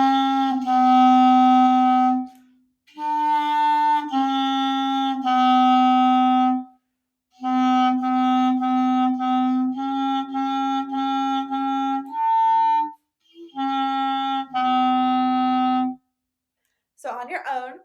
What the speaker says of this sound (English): gloomy, dreamy hot cross buns on baby clarinet.